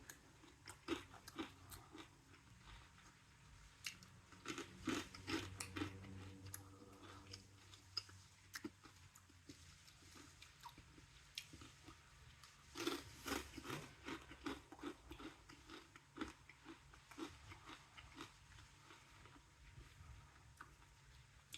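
Graze Marmite Crunch snacks being chewed close by, a steady run of soft crunches and bites with brief louder bursts, no talking.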